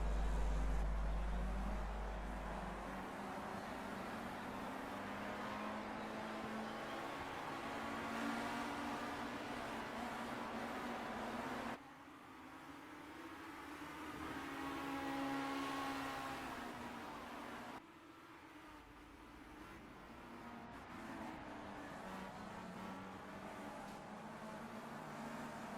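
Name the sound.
race cars in a rolling start replay, video game Project CARS 2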